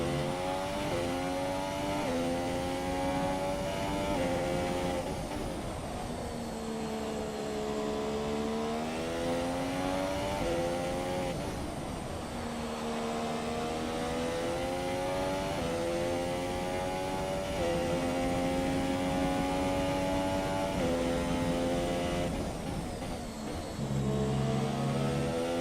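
A Formula 1 car in a racing video game howls with a loud, high, harmonic engine whine as it dives into the pit lane at the Austrian circuit. The revs sweep up and down repeatedly through gear changes, close and steady, with no talk.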